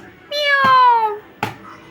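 A cat lets out one loud, close, drawn-out meow, followed by a sharp click or tap.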